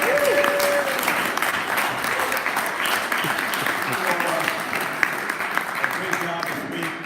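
Applause for hackathon developers from a gathered group, steady clapping filling the whole stretch with a voice talking over it near the start.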